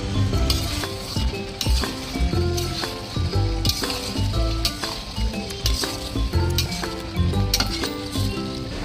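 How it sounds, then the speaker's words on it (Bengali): Potato pieces frying in oil in a pan, with a steady sizzle broken by rhythmic scraping and clinking of a utensil stirring against the pan. "আলুটাকে ভেজে তার মধ্যে দিয়ে দেবো।"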